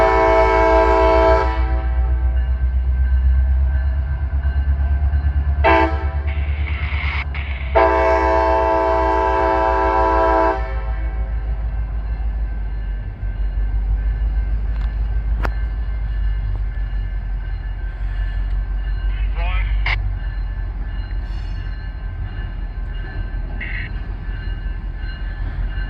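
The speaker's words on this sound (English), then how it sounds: "The local train serves a chemical company right near there." A local freight train serving a chemical plant rolls past with a steady low rumble of wheels on track, its horn blaring in a few loud blasts early on before the rumble continues alone.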